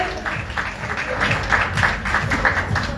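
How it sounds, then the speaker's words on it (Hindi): Clapping rises from the audience at a Bhojpuri film press conference in Mumbai, a moderate, somewhat uneven patter of hands mixed with a busy background hum. "प्लीज जोरदार तालियां हो जाए समर्थ जी के लिए।"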